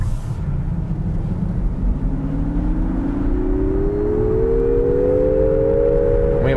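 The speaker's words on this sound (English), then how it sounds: "So in Sport mode you get a sound like there's a normal motor in there, and it's a horrible sound" Nissan Ariya electric car playing its artificial Sport-mode motor sound, a synthetic whirring hum that rises steadily in pitch as the car accelerates, clear and close inside the cabin with no talk.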